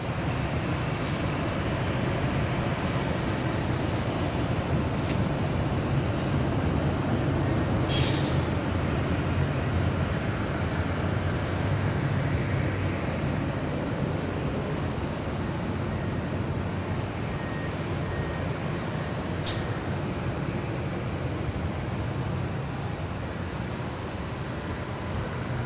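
Hawaiian Airlines jet rolling down runway 24 left at LAX, a steady broad roar that holds level throughout with faint sharper hisses here and there.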